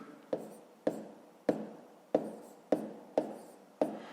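Handwritten numbers on paper, seven evenly spaced scratchy pen strokes, each a sharp tap fading quickly, close and fairly quiet with nothing else around them.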